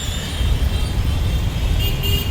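Dense road traffic rumbles steadily and loudly nearby, with engines droning and faint horn toots rising near the end.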